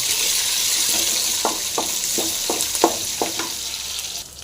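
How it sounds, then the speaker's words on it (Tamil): Mustard seeds, shallots and garlic frying in hot oil: a steady close sizzle punctuated by a string of sharp pops and spatters roughly every third of a second, loud and without voices. "கடுகு பொறிஞ்சிச்சு கரோல் போட்டுடலாம் சின்ன வெங்காயம் பூண்டு போட்டுடலாம் நல்லா பொறி பண்ணிங்க"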